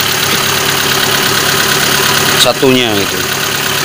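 A used car's engine idles steadily after a spark plug replacement, a low continuous hum under someone speaking briefly near the end.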